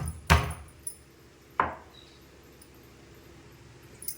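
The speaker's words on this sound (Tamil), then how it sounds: "வெங்காயத்தை லைட்டாக இடிச்சுக்கலாம்" Onion lightly crushed for drumstick leaf soup, giving two sharp pounding thuds about a second apart, the first louder, followed by a faint tap and a small knock near the end, with no talking.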